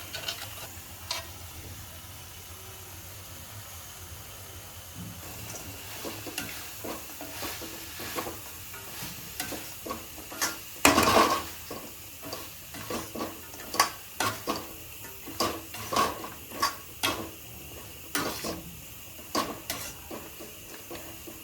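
Crispy soya chunks for Manchurian stirred in a hot pan, a steady frying sizzle broken by a loose series of sharp scraping, clacking stirs, with one louder burst of stirring near the middle.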